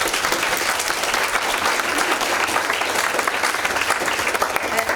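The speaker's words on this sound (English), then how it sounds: "Let's have another round of applause." An audience claps after a talk in a cognitive neuroscience of aging session, with continuous, full-room applause at a steady, fairly loud level throughout and no talking.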